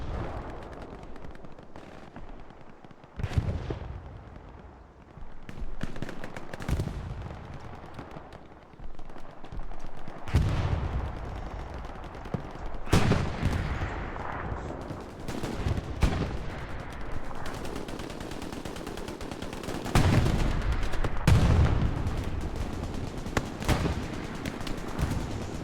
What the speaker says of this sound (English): Big bombing run does go out here by 101A again.